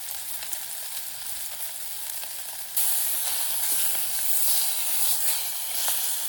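Garlic frying on a wild-camping gas stove, a steady close sizzle that suddenly grows louder and brighter partway through, with small spits and crackles and no talk.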